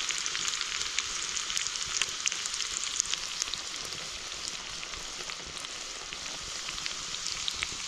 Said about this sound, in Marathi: लसूण चांगलं परतून घ्यायचं आहे आपल्याला.